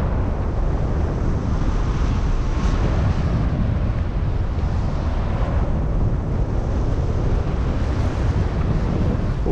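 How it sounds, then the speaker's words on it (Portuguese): Steady loud wind roar buffeting the microphone during a paraglider flight, continuous and dense throughout with no talk. "O vento já acelera na hora."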